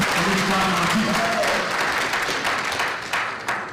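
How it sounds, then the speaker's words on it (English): A crowd at a political speech breaks into loud clapping that swells at first, then thins into scattered claps and fades toward the end. "clap for yourself that you belong to an MP"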